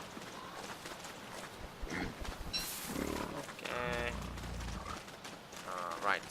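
Pigs grunting and snorting in the video game Don't Starve, a few short rough calls near the middle over soft game ambience, with a brief spoken word early on.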